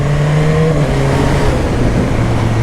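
A BMW motorcycle accelerates hard up close, its loud engine note climbing steadily in pitch over a constant roar of wind and road noise.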